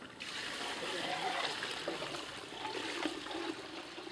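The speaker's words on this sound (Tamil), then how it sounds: "6 லிட்டர் தண்ணியை ஆட் பண்ணுறோம்" Six litres of water pour in a steady gushing splash into a large pot of chicken for a four-kilogram Arabian kabsa cooked outdoors in a village, a continuous rushing stream lasting a few seconds.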